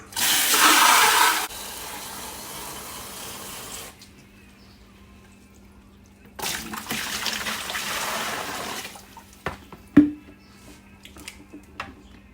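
Water running from a tap into a gallon pitcher, a loud gush at first, then a softer steady stream, a pause, another burst of filling and a few knocks and clinks, no talking.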